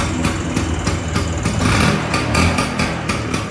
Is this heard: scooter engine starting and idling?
yes